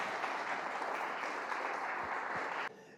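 Church congregation clapping in a loud, sustained burst of applause that fills the room, then cuts off abruptly into quieter ambience.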